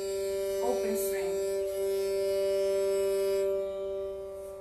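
A dilruba's open string is bowed, holding one steady note from start to finish, a smooth continuous drone with a soft murmur near the beginning.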